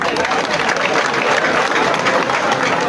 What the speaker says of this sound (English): Give them another hand clap.